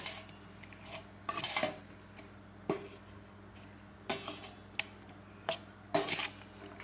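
Chicken pieces are mixed by hand or spoon with onion, ginger, garlic, salt, turmeric and a little oil in a bowl, giving scattered clinks and soft squishy knocks with quiet gaps between.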